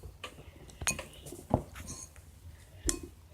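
A bowl knocked over while slime is being mixed, giving a few sharp, quiet clattering knocks and clinks spread over a few seconds.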